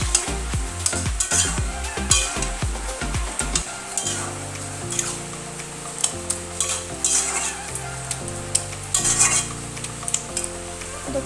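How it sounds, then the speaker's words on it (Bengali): Taro leaves with spices stirred and fried in a pan: a utensil scrapes and clatters in quick strokes at first, then a steady loud sizzle carries on underneath with occasional clinks. "মশলাটার সাথে ভালো করে কচুর শাকটা মিশিয়ে দেবো।"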